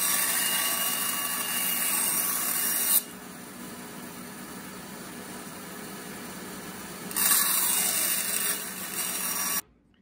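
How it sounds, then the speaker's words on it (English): A saw rips thin wood strips meant for decorative inlays on a fancy wooden box, a loud steady whine running for about three seconds, dropping to a quieter hum, then cutting again before stopping abruptly. "So with that, we start to cut our wood strips that will be inlaid."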